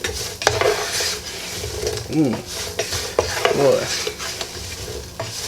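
Home fries stirred in a pan with the heat just turned off, spatula scraping and clinking against the metal over a fading sizzle, with a brief spoken exclamation.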